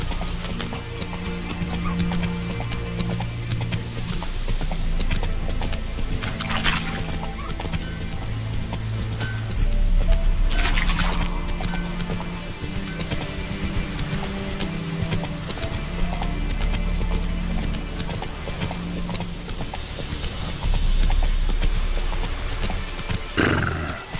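A horse trots steadily over ground in The Witcher 3, its hooves clip-clopping in an even rhythm close by, with occasional snorts and whinnies over a continuous game soundscape.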